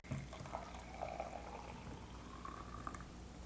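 Water poured from a measured pitcher into a French press coffee maker that brews K-Cup, pod and ground coffee, a steady bubbling, gurgling flow lasting the whole stretch with no voices.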